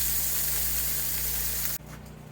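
Cutthroat trout frying in butter in a pan inside a trailer, a loud, steady sizzle and hiss that suddenly drops to a quieter crackle near the end, with no talking.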